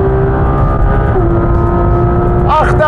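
Porsche GT3 race car engine screaming at high revs, a loud sustained rising whine close by, climbing through a shift, with faint voices underneath.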